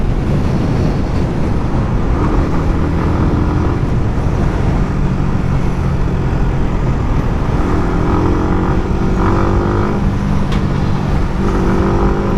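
A 2020 Yamaha MT 125 motorcycle engine drones loudly while riding, a steady hum with rising and falling gear pitches buffeted by heavy wind rush.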